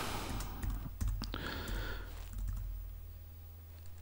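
Typing on a computer keyboard, a short burst of quiet clicky keystrokes at close range over a low steady hum, fading to near stillness by the end.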